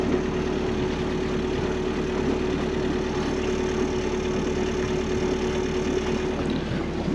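A Yanmar marine diesel on a sailboat idles steadily throughout, a constant low droning hum with a faint tonal whine, no voices.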